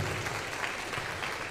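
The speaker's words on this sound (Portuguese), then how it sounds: "Pode aplaudir Jesus." A church congregation claps steadily indoors, a dense patter of applause filling the room without any voices rising above it.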